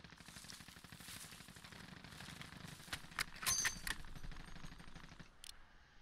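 A PKM machine gun fires in Call of Duty Warzone: faint, distant bursts of rapid automatic fire. One denser volley comes midway, with no talk over it.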